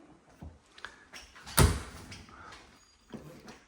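A house's back door to the yard slides or swings open with a sharp knock and rattle in the middle, followed by softer handling noises and a brief bump near the end.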